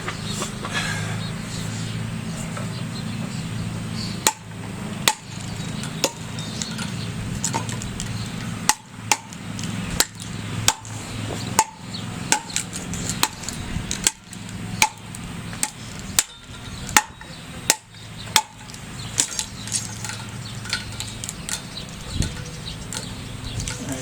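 A sword striking a wooden war post, sharp separate impacts in an irregular series, some close together, fairly loud against a steady low background hum.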